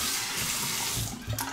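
Hot water runs steadily from a bathroom tap over a shaving brush loaded with Arco shave soap, a close, continuous splashing gush that shifts slightly as the brush moves under the stream.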